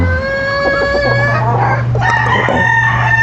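A proven-line Boston gamefowl rooster crows loudly and close by in one long drawn-out call, with clucks from other fowl nearby.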